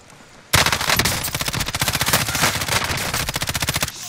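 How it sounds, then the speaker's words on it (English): Rapid automatic gunfire in Call of Duty: Modern Warfare, a loud sustained burst of closely spaced shots starting abruptly and running for several seconds before cutting off. "I'm taking fire!"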